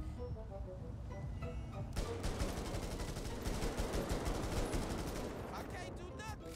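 Rapid automatic gunfire rattles in GTA 5 for most of a few seconds, dense overlapping shots with a steady rhythm after a brief quieter lead-in.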